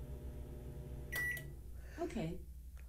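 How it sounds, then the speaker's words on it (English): An Amazon Alexa smart microwave runs with a low steady hum, then gives a short beep series and stops after a spoken command. Soft speech is heard around the sounds. "Alexa, stop the microwave."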